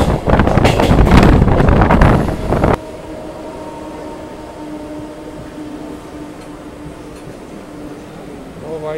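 Indian Railways local train running from Kurla to Badlapur during monsoon, a steady rumbling interior drone after a loud burst of rushing wind noise at the start.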